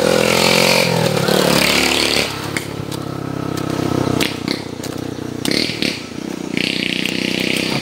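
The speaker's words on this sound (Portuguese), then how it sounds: "Aqui é moto para baixo e para cima." Motorcycles pass along a road near a riverside village on a morning dog walk, engines droning and revving loudly as they go by, with several passes rising and fading over the span.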